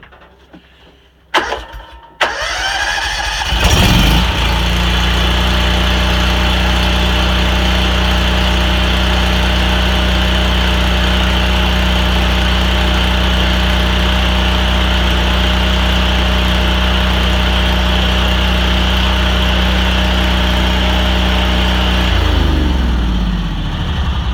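A Honda 630x engine running after an oil refill: a brief starting clatter, then a loud, steady droning idle for about twenty seconds before it winds down and stops.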